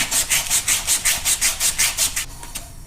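Sandpaper rubs a turbo pipe on a Toyota Supra turbo setup to smooth out burrs, in about a dozen quick, even back-and-forth strokes, close and fairly quiet, then it stops.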